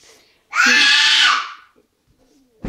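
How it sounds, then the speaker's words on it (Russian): A child lets out one loud, piercing scream lasting about a second, close and harsh, followed by quiet. "Нам часто приходится слушать такие вот крики."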